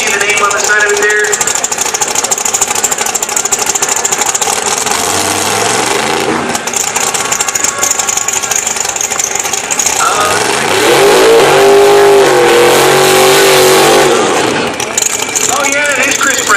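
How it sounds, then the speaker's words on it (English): A new-body-style Pontiac GTO drag car idles loudly with a lumpy, rough rhythm at the drag strip during a license run, then revs up and settles back. Crowd and track noise surround it, and a commentator talks over it. "The new body style GTO here on the tower side, just making a license run."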